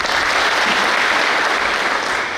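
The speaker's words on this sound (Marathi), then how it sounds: "त्यांच्यासाठी पण एकदा टाळ्या" A hall audience at a Maharashtra cooperative society secretaries' convention breaks into dense, sustained applause for their association president, loud and steady throughout with no voices standing out.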